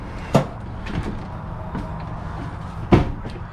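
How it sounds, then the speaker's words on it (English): Entry door of a 2025 Wildwood X-Lite 25ICE travel trailer being opened at a campsite: a sharp latch click and thump near the start, a few faint rattles, then a second firm clunk near the end. "Once you arrive, open the door."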